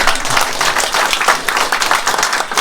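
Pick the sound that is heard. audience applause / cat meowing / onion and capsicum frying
audience applause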